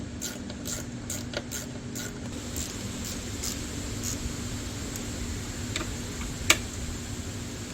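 A ratchet clicks in a steady rhythm as bolts are driven back into a Buell XB9R/XB12 motorcycle, close up over a low background hum, with one sharper tap near the end and no talking.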